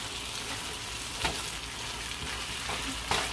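Eggs sauté in a pan in a home kitchen, a loud, dense frying hiss with a few stirring clacks against the pan, close by and with no speech.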